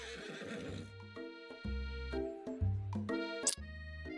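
A horse in the Colonel Sanders dating video game gives a loud, close whinny with a shaking, descending tone, followed by a few shorter snorting calls and faint hoof clops.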